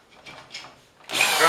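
Power drill turning against a wooden pen blank clamped firmly on a tube, faint rubbing at first, then a loud sustained whirring grind in the last half second.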